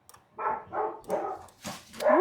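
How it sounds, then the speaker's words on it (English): Dogs inside a house let out a run of five loud, close barks in quick succession, with short gaps between them and no talking. "Oh, there's my dogs."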